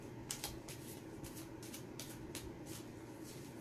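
Tarot cards shuffled in quick repeated riffling bursts, soft and close, over a steady low background hum with no talking.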